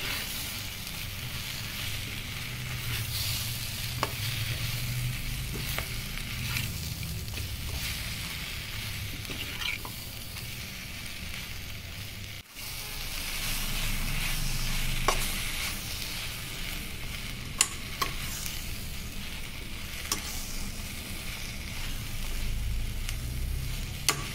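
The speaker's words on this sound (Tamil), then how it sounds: "எல்லாத்தையும் சேர்த்து நல்லா வதக்கணும்." Continuous sizzling of masala with onion and tomato frying in a pan, with scraping and clinking as it is stirred now and then, no voices.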